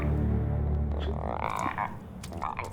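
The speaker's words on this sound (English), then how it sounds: "Great way to end it with the frog." A frog croaks in an Avatar: The Last Airbender episode, a loud, low, throaty sound that ripples for several seconds and fades, with nobody speaking over it.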